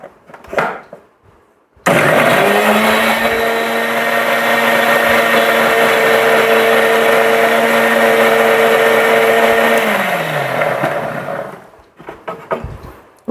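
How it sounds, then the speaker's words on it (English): A blender grinding spinach soup runs loud and steady for about eight seconds with a constant whirring motor tone, then winds down, with brief handling noise before and after. "So let me grind it again."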